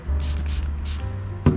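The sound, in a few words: spraying isopropyl alcohol onto shock parts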